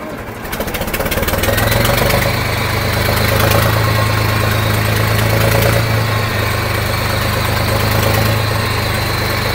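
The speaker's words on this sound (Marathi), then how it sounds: "हे बघा अशा प्रकारे आपली बोट चालू राहणार आहे आणि ती डोल आहे ना ते आपण खेचत राहणार आहोत।" A fishing boat's engine runs steadily while the boat trawls a net along the muddy seabed during deep-sea prawn fishing. It is a loud, continuous low drone with constant vibration that holds for the whole stretch, with no one speaking over it.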